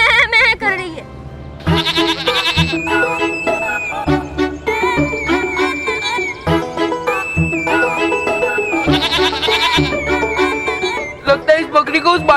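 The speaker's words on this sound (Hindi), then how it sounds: "बकरी उसके जैसे मैं कर रही है।" A goat bleats repeatedly in loud, wavering cries over a busy musical backing with percussive hits, from a children's fantasy TV episode.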